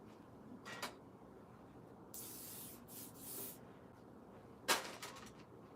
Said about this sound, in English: Soft hairspray is fine.